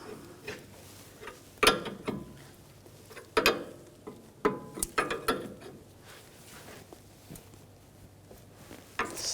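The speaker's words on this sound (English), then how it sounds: "Tighten up the jam nut. And you want to snug that up." Wrench ratcheting as the jam nut on a 2011-2018 Volkswagen Jetta outer tie rod is tightened: scattered close metallic clicks and clunks in short irregular bursts, with no talking.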